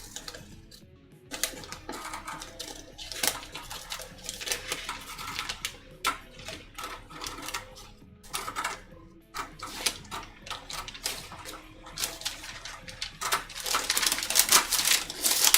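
Scissors snip through paper while a waistcoat sewing pattern is cut out, close-up uneven bursts of crisp cutting and rustling, getting busier and louder toward the end.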